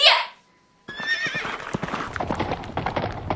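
A white horse neighs in a bright, wavering whinny after a short tone, with hoof clops and stamping continuing close by beneath it.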